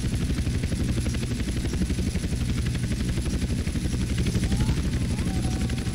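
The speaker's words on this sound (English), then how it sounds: "are y'all proud of the way that I'm flying this helicopter?" A helicopter in GTA San Andreas flies with a constant rapid rotor thump and a low engine drone, loud and even throughout with no pauses.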